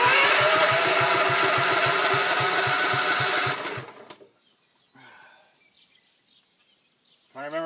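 A homemade wood chipper's small engine running loud with a fast chugging beat for about four seconds, then cutting out, followed by brief faint knocks and a short renewed burst at the end.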